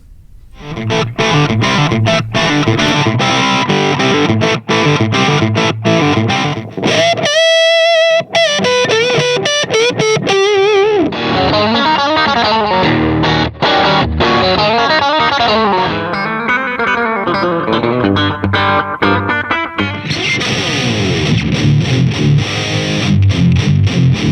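Heavily distorted electric guitar plays loud continuous riffs and chords, with a brief cleaner, sustained passage partway through.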